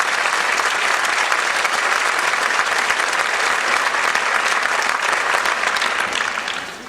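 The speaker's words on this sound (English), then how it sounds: "Please, a round of applause for all of the teachers in the room." Sustained, dense applause from a large audience at a medical school graduation ceremony, loud and even throughout and tapering slightly at the close.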